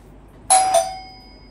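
A doorbell rings at home in a kitchen, giving a two-tone electronic ding-dong whose bright tone fades away over about a second, loud and close, with no talk.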